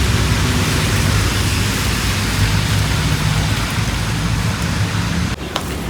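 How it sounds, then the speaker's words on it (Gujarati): Steady, dense rain pours down continuously at close range over a rural cattle-herding area, a loud broadband hiss with no talk, briefly dipping near the end. "વરસાદ ચાલુ છે"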